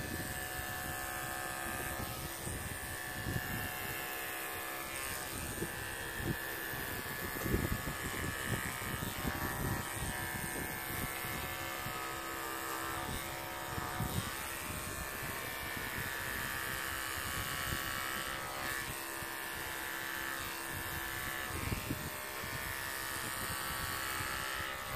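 Electric clippers with a 10 blade shave a dairy goat being prepared for a goat show, giving a continuous close buzzing hum that stays steady throughout and carries no speech.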